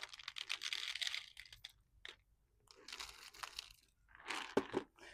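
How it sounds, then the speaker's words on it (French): Small pet rodents crunching dry kibble up close, with quiet irregular bursts of gnawing and crunching separated by short pauses. "On va leur mettre les croquettes."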